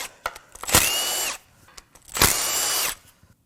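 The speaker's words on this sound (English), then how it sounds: "Next, we'll remove the Vano solenoid." A power drill or impact tool removing the VANOS solenoid from a BMW 335i N54 twin-turbo engine during teardown: two loud, close bursts of whirring about half a second each, separated by faint clicks.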